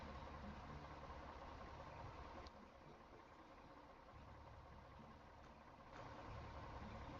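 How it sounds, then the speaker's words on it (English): A truck engine idles in the off-road driving video game SnowRunner, a low, steady, faint rumble that runs the whole time with no voices. "Forgot to shut off the engine."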